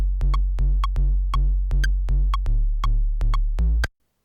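A synthesized sub bass patch made in Ableton Live plays a repeating pattern of deep, short notes with a sharp metronome click ticking over it, ending abruptly after about ten hits.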